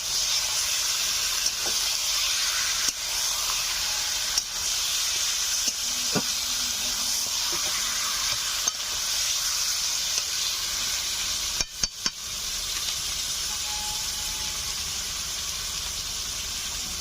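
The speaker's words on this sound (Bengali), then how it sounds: "এখন দিয়ে দিচ্ছি মুরগির মাংস।" Chicken meat sizzles steadily as it fries in hot oil with browned spices, a loud, even hiss lasting throughout, broken by occasional soft clicks and a few sharp clatters of a stirring utensil near the end.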